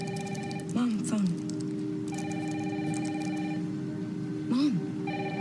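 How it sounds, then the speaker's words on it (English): A telephone rings in a home on a rainy night, a steady repeating electronic tone pattern with bright harmonic chimes recurring in bursts, while a young voice briefly calls out over it. "Mom, phone."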